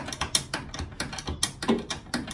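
A hand ratchet clicks in quick, even strokes while nuts and bolts are tightened on the front bearings and swivels of a classic Mini hydraulic suspension rebuild, crisp close ratcheting bursts with no talking.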